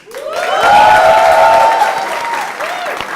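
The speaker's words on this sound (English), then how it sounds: "can we give her one more massive round of applause, please?" An audience at a filmed celebrity interview breaks into loud applause that swells quickly and stays dense, with a few cheers and whoops rising above the clapping before it thins slightly near the end.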